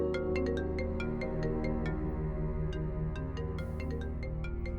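A mobile phone ringtone plays as a repeating electronic melody of bright, evenly spaced tones over a sustained musical bed, loud and close, with no speech.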